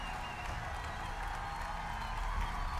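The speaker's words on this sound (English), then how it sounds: "Just listen to that applause." In Fallout 4, a crowd's applause rolls on steadily and somewhat faint, with dense clapping blended with light cheering.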